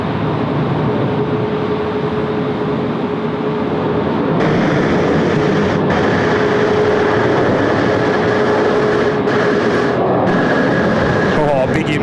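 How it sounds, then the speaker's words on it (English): A big United airliner roars on runway 16 right at Sydney Airport, a steady, loud jet rumble that swells partway through and holds, with people talking over it. "big United making a whole lot of noise down there on 16 right"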